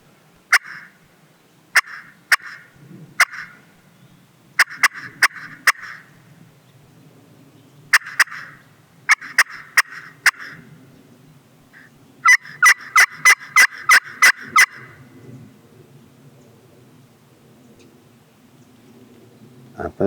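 A wild turkey gobbles repeatedly in response to a pot call, with sharp rattling bursts in uneven clusters and a rapid final run of calls, fairly close and loud over a quiet woodland background.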